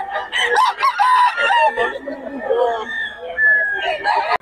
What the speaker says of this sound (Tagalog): Ang manok ni Boss Perry